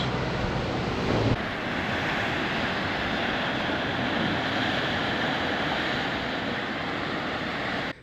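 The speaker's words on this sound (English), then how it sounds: "And this is the blowhole. Unfortunately, it's fairly low tides." Sea surf washing around a blowhole at low tide on the Tasman Peninsula, a continuous loud roar of waves with wind buffeting the microphone and a brief stronger surge near the start.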